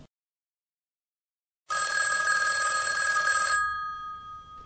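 After a long stretch of silence, a house telephone bell gives one loud, steady, shrill ring of roughly two seconds before it cuts off and fades away.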